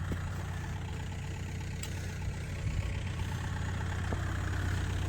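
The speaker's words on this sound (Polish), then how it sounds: "stoi już jakiś samochód nawet z odpalonym silnikiem" A parked engine idles nearby with a low, continuous rumble, steady throughout, with a couple of faint clicks.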